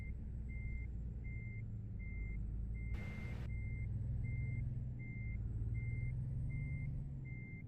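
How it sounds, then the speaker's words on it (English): Truck backup beeper in American Truck Simulator: a steady, evenly spaced reversing beep repeats about a dozen times over a low idling truck engine, with a brief hiss of air partway through. "please forgive me for the backup beeper."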